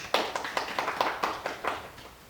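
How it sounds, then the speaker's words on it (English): Audience clapping at a youth jobs session, a short run of scattered, uneven claps at moderate distance with no talk over them. "Please clap for yourselves."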